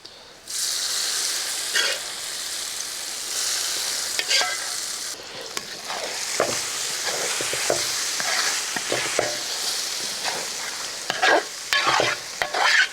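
Fried coconut is stirred into a pan of kootu curry for an Onam feast, with a spoon scraping and clacking close up over a continuous soft sizzle of hot oil.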